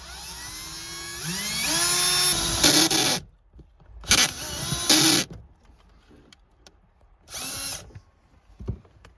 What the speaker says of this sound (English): is going to drill in the firewall